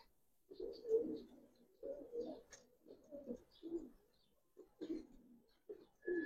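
Pigeons kept in a loft coo repeatedly in low, soft, throaty bursts, several calls at an uneven pace, fairly faint and close.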